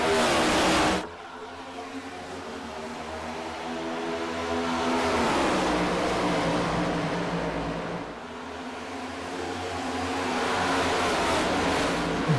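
Race car engines in a stock-car racing video game roar steadily at full throttle on a green-flag restart, a dense continuous loud drone with rising and falling pitch sweeps as cars accelerate past.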